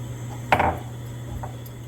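Half a cup of heavy cream poured into a pan for a Cajun chicken pasta sauce: one brief, soft splash with a faint clink, then a steady low hum beneath.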